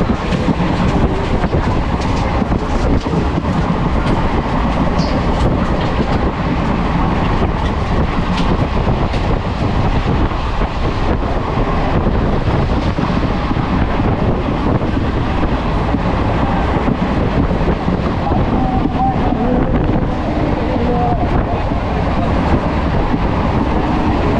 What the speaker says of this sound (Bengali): ট্রেন চলে এলো মুর্শিদাবাদ